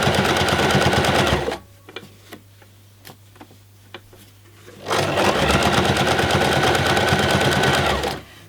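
A sewing machine stitches a tote bag strap in two loud, steady bursts of rapid needle clatter, separated by a pause of soft clicks and handling taps.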